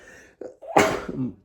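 A sneeze bursts out from a man during a late-night baseball postgame talk show, a sharp broadband blast preceded by a short inhale, fairly close and loud, with no speech around it.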